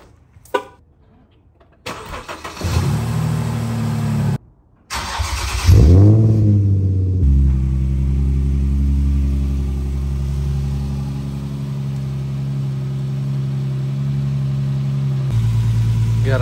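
Nissan 350Z engine cranks, catches and settles into a steady, loud idle close by, with a brief blip around the start and a slight rise in revs near the end; no talk.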